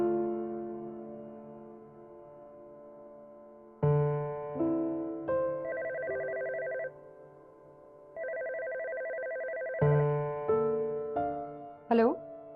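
A telephone rings on and on without being picked up, heard as a series of steady electronic tones in stepped bursts with short pauses, ending in a brief sliding tone.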